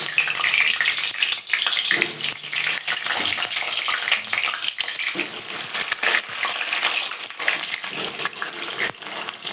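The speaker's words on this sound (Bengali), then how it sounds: "তেল গরম হয়ে গেছে, আমি এবার আলুগুলোকে ভেজে নেব।" Potatoes frying in hot mustard oil in a kadai, a steady, loud hiss and sputter running continuously throughout with no voices.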